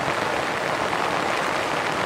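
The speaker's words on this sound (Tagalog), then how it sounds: "Ang lakas ng ulan." Heavy rain pours onto a camping tent at a lakeside campsite in Cavinti, Laguna, a dense, unbroken hiss of drumming drops, loud and close, with no talking.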